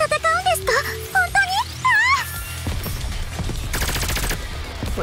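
A voice speaks first, then sustained rapid gunfire erupts from a gun in the video game NIKKE, a loud, continuous rattling volley filling the second half.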